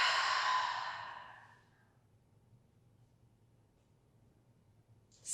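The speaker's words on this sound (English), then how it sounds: "Take a nice deep inhale. And exhale through the mouth." A deep, breathy exhale through the mouth during a relaxed yoga cool-down, soft and airy, fading out over about two seconds into near silence, with a faint new breath starting at the very end.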